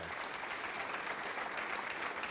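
A crowd at a professional snooker match applauds continuously, a dense, steady clapping of moderate loudness that fills the scene with no talk over it.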